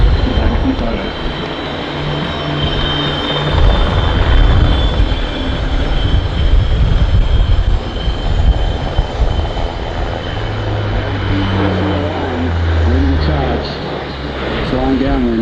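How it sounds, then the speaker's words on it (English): Loud, steady drone of rotors and engines from two Tiger attack helicopters passing by at an airshow, with a crowd and a commentator's voice heard over the noise. "Then airborne, we have the two Tiger helicopters."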